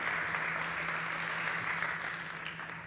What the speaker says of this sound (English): a big round of applause for Fran Vialba from Internext.